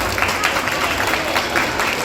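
Applause from the crowd at a school's two-day annual function, a steady wash of clapping that holds at moderate loudness through the whole stretch with no clear pauses.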